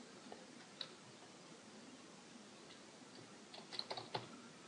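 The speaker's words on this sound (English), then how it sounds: "I'm going to type in my username." Quiet clicking of keys on a computer keyboard as a username is typed, a few scattered taps followed by a short quick burst near the end, soft and faint against a low room hiss.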